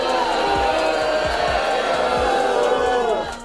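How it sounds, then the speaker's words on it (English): Studio audience at a Jimmy Kimmel late-night taping booing loudly, a continuous crowd roar that fades slightly at the end. "Thank you for booing."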